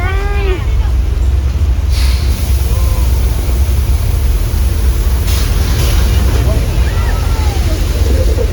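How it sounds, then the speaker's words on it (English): Simulated flash flood effect on the Universal Studios Hollywood tram tour, a loud continuous rush of water and wind-like roar filling the scene, with people talking and calling out over it. "looks like we're in for a flash flood."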